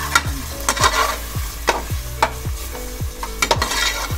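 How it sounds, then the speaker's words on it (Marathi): Mutton sautéed with turmeric and red chili in a pan, with regular spoon scrapes and clanks against the metal over a constant frying sizzle, close and alone with no speech. "1/2 चमचा हळद, 2 चमचे लाल तिखट. हा ते परतून घे."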